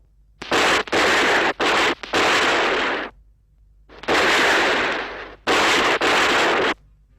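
Gunfire from a Western film about shamans crackles in loud, dense bursts, several sustained volleys separated by short silences, close and harsh like rapid automatic shots, with no voices over it.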